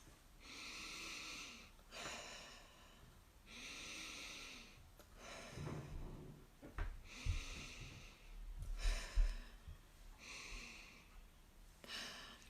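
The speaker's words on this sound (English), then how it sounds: "bring them here and take some really big deep breaths, maybe 4 or 5 big deep breaths" Several deep, slow inhales and exhales through the nose close to the mic, about five long breathy draws of a wild orange and peppermint essential oil blend cupped in the hands, with soft snorty rushes of air and short pauses between them.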